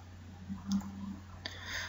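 A computer mouse gives a couple of faint, sharp clicks against a quiet background hum, with no speech.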